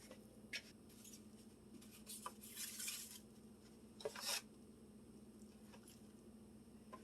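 Chicken breast dredged in flour, soft faint rustling and rubbing with a few light taps and scuffs, close and quiet over a steady low hum, no talking.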